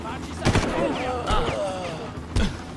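Gunfire in the Far Cry 1 video game, with a few loud shot bursts spread across the moment over a steady game background.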